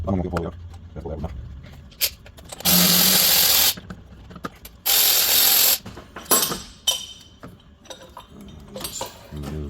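A 14mm socket on a ratchet or power tool spins out engine mount bolts on a 2005 Acura MDX 3.5L during timing belt work, two loud, close bursts of about a second each amid clinks of metal and someone talking.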